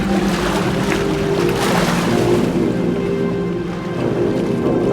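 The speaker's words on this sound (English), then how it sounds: "A little bit wavy this morning, you guys can tell. There's a little bit of wind out here." Wind and choppy waves slap around a boat on open water, a continuous loud wash with gusts buffeting the microphone and a steady motor hum beneath, no speech.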